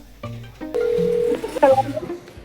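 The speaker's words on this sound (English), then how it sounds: "the phone just hung up" A telephone line goes dead after a call hangs up, giving a steady electronic tone followed by a few short beeps and clicks.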